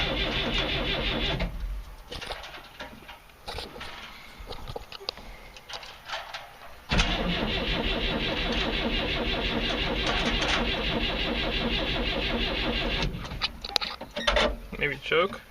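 A flooded 1965 Datsun engine being cold started: the starter cranks, the engine stumbles and cuts out, then catches and runs with a rough, loud mid-pitched idle for several seconds before faltering near the end.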